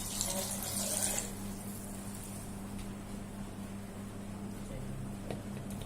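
Milk streams steadily into a blender with a continuous splashing, pouring hiss, over a low constant hum.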